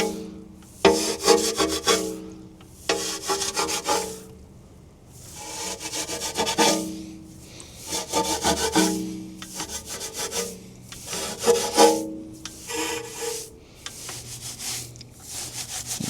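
A brush scrubs a Mercedes S63 AMG wheel rim in bursts of rough rubbing strokes, each lasting a second or two with short pauses between them, close and steady, with no talking.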